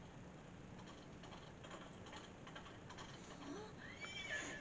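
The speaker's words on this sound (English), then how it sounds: "Oh, horsey time again." In the Princess Peach Showtime video game, a horse whinnies over a bed of rhythmic hoof clip-clops, with a brighter, higher neigh rising near the end above a quiet, steady game backdrop.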